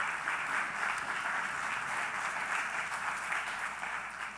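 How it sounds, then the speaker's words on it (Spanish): Church congregation applauding during a sermon: sustained, even clapping from a crowd fills the whole stretch at moderate volume, a dense continuous patter without a clear start or end. "Denle ese aplauso al Señor."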